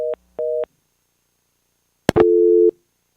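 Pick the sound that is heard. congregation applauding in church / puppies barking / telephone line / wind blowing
telephone line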